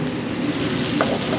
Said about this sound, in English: We have the sizzling.